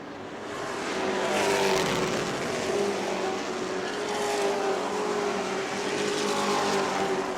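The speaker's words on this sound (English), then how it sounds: "the two solid black trucks coming down the main straightaway" Race trucks at a New Smyrna World Series event roar down the main straightaway, a loud, sustained engine blare that swells and holds for several seconds without commentary over it.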